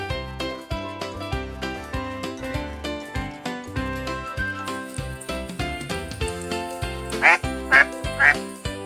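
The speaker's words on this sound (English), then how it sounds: "Look, a duck." A duck quacks three times in quick succession near the end, loud and close, over a busy bed of cheerful children's music that runs throughout.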